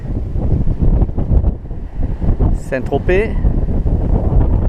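Steady wind of about 20 knots buffets the microphone aboard a sailboat heading east from Port Grimaud toward Saint-Tropez on a westerly breeze, a constant roar under someone talking throughout.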